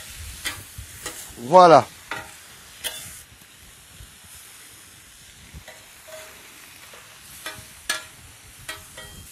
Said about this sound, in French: je vais déglacer avec un tout petit peu de vinaigre blanc